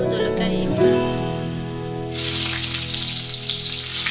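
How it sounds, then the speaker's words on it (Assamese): Onions and green chillies hit hot oil in a kadai, a loud close hiss that bursts in partway through and holds as a steady, bright sizzle. "আমাৰ তেল গৰম হৈছে, ইয়াত আমি পিঁয়াজ আৰু জলকীয়া দিম।"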